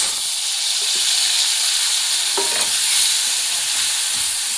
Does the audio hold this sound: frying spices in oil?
yes